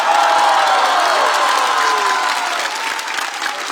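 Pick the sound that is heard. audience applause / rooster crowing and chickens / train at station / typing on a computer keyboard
audience applause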